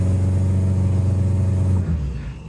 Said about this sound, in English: I'm going to put my left foot on the brake and then give it a load of gas.